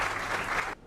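A short burst of dense audience applause at an awards cabaret, steady and fairly close, then cutting off abruptly near the end.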